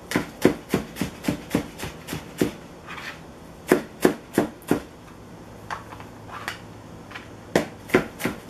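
A knife chops through a shallot on a cutting board in a run of sharp, close, evenly spaced strikes, pausing twice before resuming in quick bursts.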